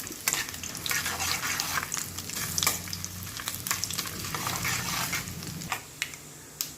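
Ingredients fry in a hot pan for a Telugu-style curry, with a busy crackling sizzle broken by several sharp scraping stirs and a low rumble underneath.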